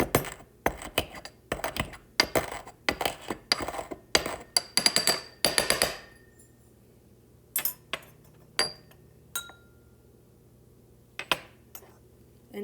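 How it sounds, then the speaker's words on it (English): Calcium chloride pieces ground into powder by hand in a lab, giving a rapid run of sharp scraping and clinking strokes for several seconds, then a few scattered, louder knocks and taps separated by pauses. "So I'm going to grind this guy up so that it's smaller pieces."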